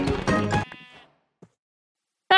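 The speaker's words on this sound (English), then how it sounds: "Woo, sheep." A Minecraft sheep gives a short, loud bleat in a hardcore survival game on a superflat world. A faint, brief blip follows, then a new sound starts at the very end.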